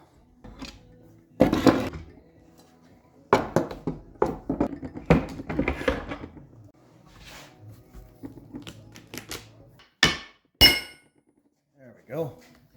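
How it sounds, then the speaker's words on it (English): Clamps come off a freshly glued wooden cutting board with sharp knocks, metallic clinks and rattles in irregular bursts, some loud and close, with quieter handling sounds between them. "let's take the clamps off."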